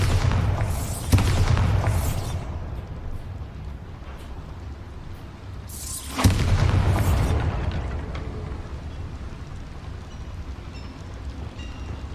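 Two heavy booming blasts from the Bombarda spell in Hogwarts Legacy, set inside a small mine, each a sharp onset followed by a long rumbling decay, several seconds apart, with no talk.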